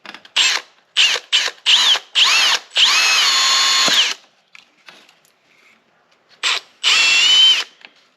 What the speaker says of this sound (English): This should be pretty easy to drill because it's just plastic.